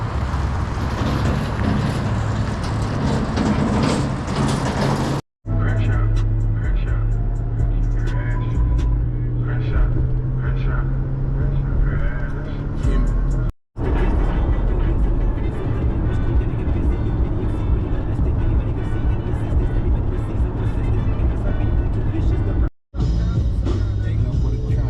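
Steady road noise of a car towing a trailer on a long drive to collect a vending machine, a continuous low engine and tyre rumble with brief cuts and some speech over it.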